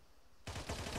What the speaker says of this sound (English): you say that and I hear gunfire immediately